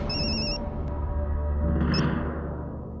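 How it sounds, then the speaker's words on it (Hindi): A home telephone gives a short burst of electronic ringing, then stops, and a steady background hum carries on. "पापा का फोन।"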